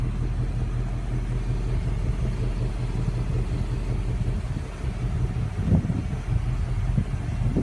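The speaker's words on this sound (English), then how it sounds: "the dual round chrome tip exhaust with dual sound mode" A 2015 Ford Mustang GT Premium 50th Anniversary with dual round chrome-tip exhaust idles in a low, steady rumble, a constant deep engine drone throughout with a slight swell near the end, no speech.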